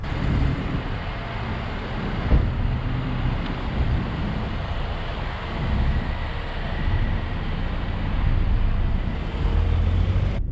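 A 2021 MINI Countryman on the move gives a steady, loud broadband rumble of road and engine noise mixed with wind, constant for the whole stretch and with no voices.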